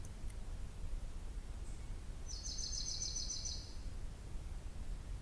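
A common western backyard songbird gives a short, clear burst of repeated high chirping notes lasting about a second and a half, set against a steady low outdoor rumble with no talking.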